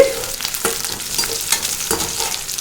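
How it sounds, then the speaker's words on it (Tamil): Onions are sautéed in a pan for a hotel-style okra buttermilk curry. A loud, close sizzle is broken up by quick, rhythmic spatula scrapes and stirring strokes, with no voices. "வெங்காயம் நல்லா வதங்கிருச்சு"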